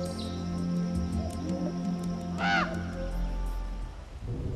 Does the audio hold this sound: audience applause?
no